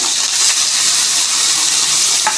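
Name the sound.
frying garlic, ginger, onion and chili paste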